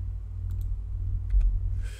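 A single computer key press while editing in DaVinci Resolve, two faint soft clicks close together followed by another small pair of clicks over a low steady hum.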